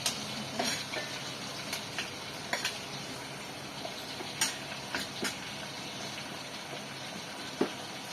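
Tomato pieces frying in a pan, with a soft, continuous sizzle broken by occasional clinks and scrapes of stirring.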